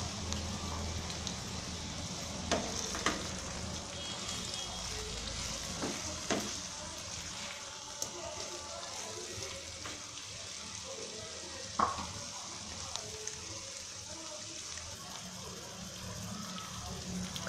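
Cumin and green chili paste frying in a pan for a sorse potol dish: a steady, soft sizzle runs throughout, with occasional sharp clicks and taps of a utensil against the pan.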